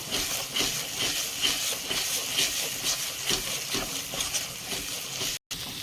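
A spice paste with Kashmiri red chili powder sizzles and hisses steadily in a pan, with a few soft stirring knocks over the continuous frying and a brief dropout near the end.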